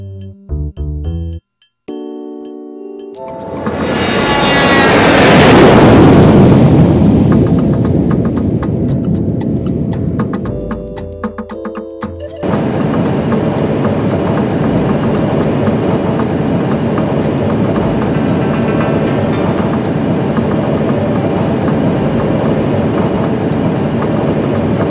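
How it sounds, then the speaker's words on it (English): Aircraft engine building from a rumble to a loud, steady roar, then dropping briefly before settling into a continuous drone heard from inside the plane during a ride, with no talking. "LeVar, you like airplanes? Let's go for a ride"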